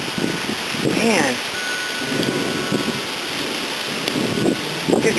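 Rain arrives on a gusty wind during a storm, a steady hiss of falling drops and wind rumble close to the microphone, with a few faint voice-like sounds mixed into the wash.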